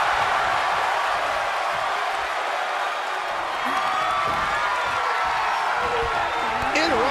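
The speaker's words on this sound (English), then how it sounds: "Taking a moment to get pumped off of this crowd's incredible energy." Crowd noise from a wrestling video game match, a loud continuous roar of cheering and whooping that persists under frequent commentary speech.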